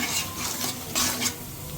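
Shrimp sizzle steadily in hot oil in a pan while a utensil stirs and scrapes them in quick, close, loud strokes.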